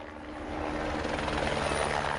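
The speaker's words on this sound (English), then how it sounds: "It wasn't entirely coincidence the helicopter had been overhead." A helicopter drones overhead with a steady, loud rotor and engine roar that swells slightly and holds without a break.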